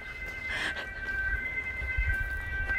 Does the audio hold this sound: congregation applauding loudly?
no